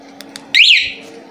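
A remote alarm on a 2015 Yamaha Vixion motorcycle, set off by its vibration sensor, gives one loud, short electronic chirp that sweeps up and back down, close by, over a quiet background.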